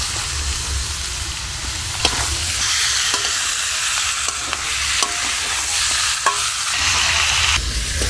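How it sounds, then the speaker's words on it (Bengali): Chicken pieces frying with spices, chopped tomato and slit green chillies in a pan for chicken biryani, a steady close sizzle with occasional spoon scrapes and stirring knocks throughout, no voices. "মশলার সাথে কিন্তু মাংসটাকে একটু ভালো করে ভেজে নিয়েছি"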